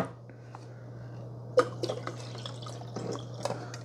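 Pure vinegar poured into the glass carafe of a Bunn Speed Brew Select coffee maker, heard as a sharp splash followed by soft intermittent trickling and dripping against a low steady hum.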